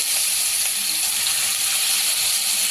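Grated beetroot hitting hot ghee in a pan gives a steady, close sizzle with a bright, dense hiss that holds evenly throughout, no voices over it.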